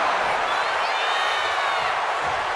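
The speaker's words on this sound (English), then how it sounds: "this crowd is on their feet in full appreciation" A wrestling arena crowd in WWE 2K25 cheers and roars steadily, a dense wash of noise that stays loud and unbroken throughout.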